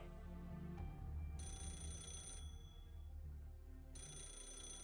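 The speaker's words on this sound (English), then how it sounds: "Is that a phone? Wow, look, even phone sound effects." A telephone ringtone from the video game Fate/Grand Order rings steadily, with bright repeating tones that switch pitch in sections, alone with no talk.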